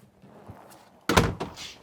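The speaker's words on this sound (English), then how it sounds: "Being able to shut the door" An RV bunk room door in a 2027 Campsite Reserve 29TJ swings shut with a single close, loud thunk, followed by a brief rattle and settling knock, alone after a quiet room.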